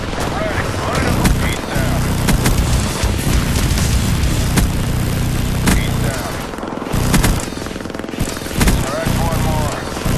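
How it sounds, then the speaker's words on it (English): Mortar strike in a Team Deathmatch shooter game, heavy booming blasts and rapid gunfire filling a loud, dense battlefield mix, with radio-style voice callouts over it. "Mortar coordinates received. Firing for effect."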